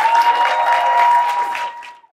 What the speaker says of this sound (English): Give us a round Love of applause.